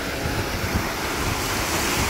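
Ocean waves rolling in at Myrtle Beach, South Carolina, a steady broad wash of surf with wind noise buffeting the microphone throughout.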